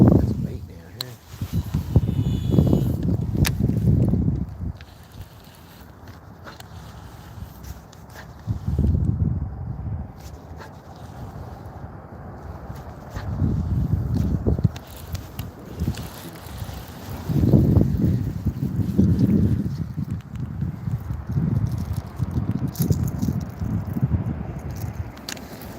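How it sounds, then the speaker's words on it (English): Sporadic gusts of wind buffet the microphone outdoors during a fishing trip, coming in several strong rumbling bursts with calmer gaps, while people talk through much of it. "This wind is sporadic. You can't really judge it."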